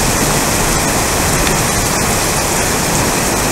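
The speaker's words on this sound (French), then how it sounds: "La pluie se renforce." Heavy rain pours during an electrical thunderstorm in Aurillac, a dense, loud, unbroken roar of water close by that holds steady throughout, with no voices.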